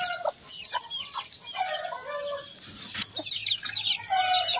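Native country chickens cluck and chirp close by in a backyard coop, with busy overlapping calls and a low hum underneath.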